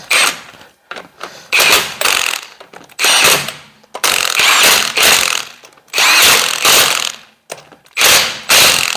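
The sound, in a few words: power tool tightening wheel lug nuts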